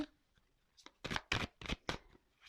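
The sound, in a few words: shuffling oracle cards before drawing an advice card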